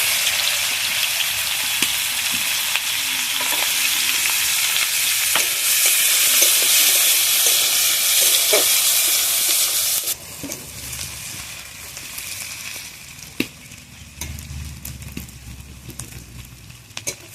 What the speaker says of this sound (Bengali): তো পেঁয়াজটা ভালোভাবে ভেজে নিয়ে একটু আদা রসুন দেবো।